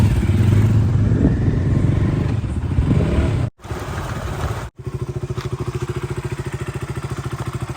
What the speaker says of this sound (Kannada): ನಾವು ಹೋಗ್ತಿರೋದೆಲ್ಲರೂ ಬೈಕಲ್ಲಿ